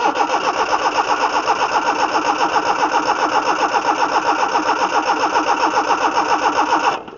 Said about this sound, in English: that's about as much as I want to spin it without the ignition, because, you know, I don't want to run the jumper dead